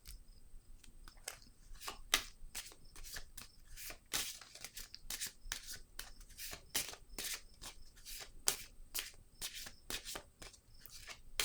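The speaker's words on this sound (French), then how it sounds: "Je vais déposer une autre carte." Playing cards are handled and laid down close by, giving a quick run of sharp flicks, slaps and shuffling snaps in an irregular rhythm.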